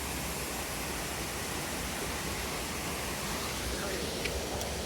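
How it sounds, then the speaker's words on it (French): A waterfall rushes in a steady, dense hiss that stays even and unbroken throughout, close and fairly loud. "Regardez-moi un peu cette belle cascade."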